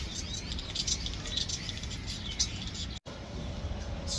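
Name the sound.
flock of birds chirping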